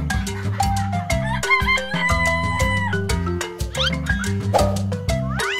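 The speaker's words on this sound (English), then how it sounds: "the rooster sounds like." A rooster crows over upbeat background music, its calls rising out of the cheerful tune across several seconds.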